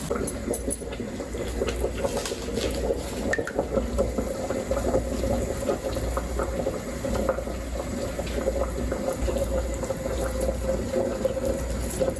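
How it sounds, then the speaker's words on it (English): Saltfish boiling in a pot on a breakfast stove, a continuous churning bubble and roil of water that holds steady and close throughout, with no talking. "So I have some saltfish here boiling"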